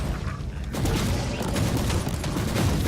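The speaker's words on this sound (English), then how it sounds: "I would like to leave the Cyclone missile launcher strike against the big guy there in the back." Cyclone missile launcher strike in the video game Warhammer 40,000: Inquisitor - Martyr: a broad, rumbling barrage of impacts and booms swelling after a brief lull and continuing steadily for over two seconds.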